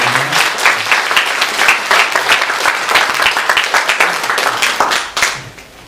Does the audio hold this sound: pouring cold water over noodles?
no